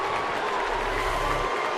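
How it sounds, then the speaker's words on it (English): A large baseball stadium crowd at a major league game reacts to a diving catch, a dense, loud, steady roar of many voices that fills the whole stretch without break. "this crowd is booing him like crazy"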